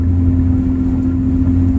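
Infiniti Q50 exhaust with a Rev9 catback and PLM axle-back, a steady low droning tone at cruise, smooth and not raspy, heard up close from inside the car.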